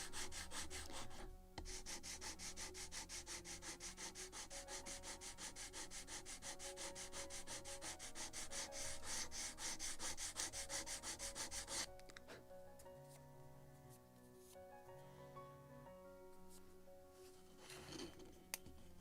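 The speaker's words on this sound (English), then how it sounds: "I can sand it to the proper width." Rhythmic back-and-forth sanding of a wooden rudder for a Model Shipways kit of the 1776 gunboat Philadelphia, a steady close scratchy rasp for about twelve seconds before it turns to lighter, sparser strokes.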